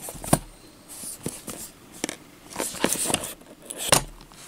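A Geekvape Athena box mod being unboxed from a small, plain box, giving several sharp cardboard scrapes, taps and rustles at irregular intervals, close and moderately loud with no talking.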